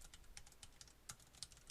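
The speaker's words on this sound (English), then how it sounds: "I apologize for my loud keyboard, by the way, but I love my mechanical keyboard." Rapid, uneven keystrokes on a mechanical computer keyboard clack crisply at close range, quiet overall with no talk.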